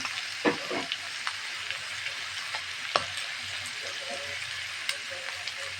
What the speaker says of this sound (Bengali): পেঁয়াজগুলো সুন্দর মতো নিয়ে করে ভেজে নেব